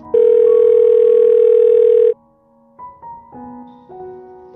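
A phone rings indoors: a loud, steady electronic tone holds for about two seconds, then gives way to a quieter run of short melodic beeps, with no talking.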